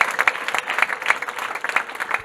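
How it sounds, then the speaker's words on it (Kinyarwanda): A church congregation at a Pentecost service applauds, a dense run of rapid hand claps that holds steady at moderate loudness for the whole stretch. "Reka dukomere Imana amashyi twishimire."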